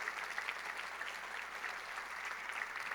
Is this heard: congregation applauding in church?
yes